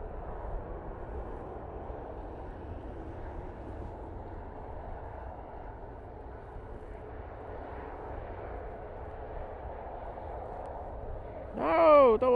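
Airplane departing Manchester Airport on a windy day, a steady, muffled engine rumble holding at moderate level throughout, with a brief louder burst of another sound at the very end.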